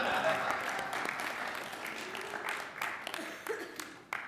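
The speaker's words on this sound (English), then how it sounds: "Let's get a round of applause." A round of applause from the audience at a Youth in Government mock city council meeting, broad and steady clapping that fills the room and slowly thins toward the end.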